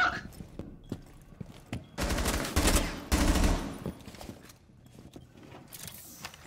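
Rapid bursts of gunfire in two loud volleys in Rainbow Six Siege, with scattered quieter shots and clatter around them.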